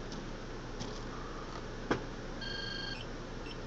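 A replica Sliders timer gives short electronic beeps as it counts down, close and fairly quiet over a constant hiss, with one brief click partway through.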